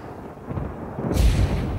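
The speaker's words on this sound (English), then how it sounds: "Shells exploding with such a noise, the earth itself is cracking open." Distant artillery shells exploding in wartime: one deep, rolling boom erupts partway through and rumbles on heavily, rising out of a quieter low murmur with no voices.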